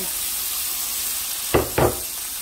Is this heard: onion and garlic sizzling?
yes